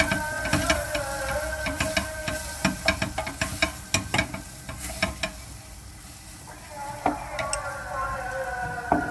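Spoon stirring bouillon into lentil soup in a pot, with repeated scraping clinks and strokes against the pot and a steady sizzling, bubbling background throughout.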